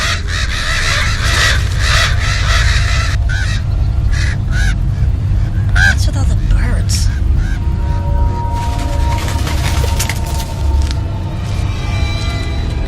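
Loud, busy bird calls fill the scene, harsh cawing and honking cries repeating over a constant low rumble, dense and close throughout.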